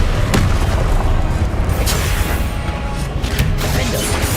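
The Incendio fire spell is cast in Hogwarts Legacy, producing a loud, dense, continuous roaring blast with a few sharper cracks layered over it, heard alone without talk.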